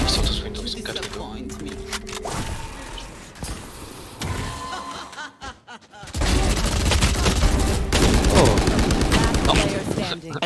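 Gunfire in the tactical shooter Valorant, bursts of shots and rattling fire mixed with game effects, dropping briefly quiet before loud sustained shooting returns; a player talks over it.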